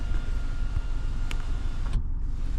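An electric motor hums steadily inside a BMW as the power windows rise at a button press, with a low continuous whir and a click before it stops abruptly, and no one talking.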